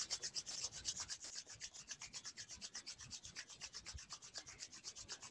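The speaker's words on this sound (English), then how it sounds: "Rubbing your hands back and forth till you feel it gets warm." Palms rub quickly back and forth to warm the hands, producing a soft rhythmic swishing that repeats evenly and is close and quiet, with no voices.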